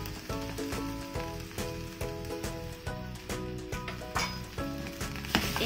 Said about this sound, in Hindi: और इनको हम अच्छे से भूनेंगे ताकि इसका मॉइस्चर बिल्कुल निकल जाए जो आलू में है हमारे।